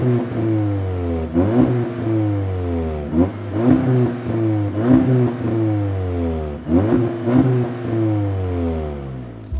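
A Cupra Ateca SUV with quad exhaust tips repeatedly blipped in short revs, each rise and fall of engine pitch clear and close, spaced roughly every one to two seconds without any talk.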